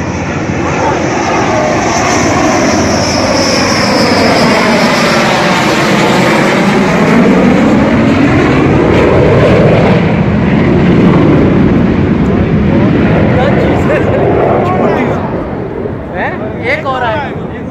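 Indian Air Force Rafale fighter jets fly low overhead, their loud, continuous engine roar rising and falling in pitch as they pass, with excited voices talking throughout.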